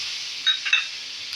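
Curry leaves with green and red chillies hit hot ghee for tempering, giving a steady bright sizzle with a couple of sharper crackling bursts, close and fairly loud.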